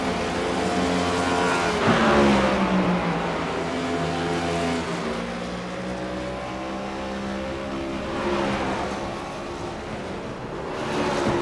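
Race cars from an iRacing sim race at Bristol roar continuously with strong engine drone, pitch rising and falling as cars accelerate and pass, with some tire squeal, loud and steady throughout.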